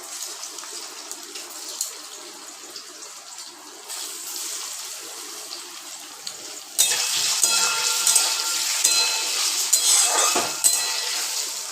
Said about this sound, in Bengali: আমি দুবারে ভাগ করে নিয়েছি, দুবারে ভাজবো